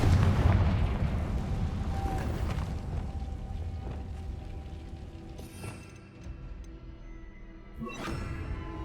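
A Confringo fire spell blast in Hogwarts Legacy, a heavy booming explosion up front followed by a rumbling tail, then several sharper cracking impacts and bursts at the end, with no talking.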